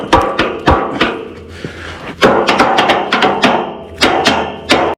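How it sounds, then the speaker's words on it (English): Sharp hammer blows drive a bent part into place on a pulling vehicle, loud close metallic-wooden knocks in irregular bursts, sometimes quick runs of several hits, then pauses. "a little persuasion with the hammer and we got it in the rest of the way"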